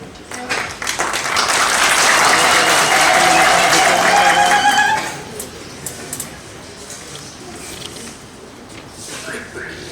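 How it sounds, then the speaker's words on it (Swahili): Audience applause at a swearing-in ceremony for a new public official, a dense burst of clapping for about five seconds that then drops away to a quieter murmuring room. "Asante, makofi tafadhali."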